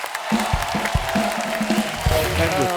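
On a comedy talk show, a studio audience breaks into applause and cheering for a singer. The crowd noise sits under a voice and continues throughout.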